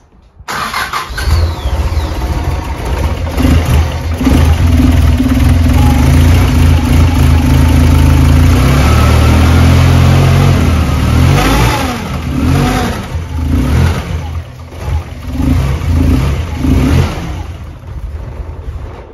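A car engine starts and revs unevenly, failing to hold idle, with a steady mechanical whirring from the fan hitting the bottom of its shroud running beneath the loud, fluctuating engine noise throughout.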